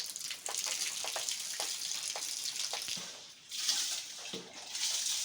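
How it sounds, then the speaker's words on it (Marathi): Rinse water from washed rice drained slowly out of a cooking pot at an outdoor village picnic, a close splashing trickle with several brief gushes and a short pause midway. "पाणी काढते आता"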